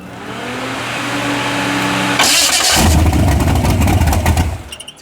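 A 350 small-block Chevy V8 cranks for about two seconds, then fires and catches, running loud and rough at close range for a few seconds before it sputters and stalls, low on fuel.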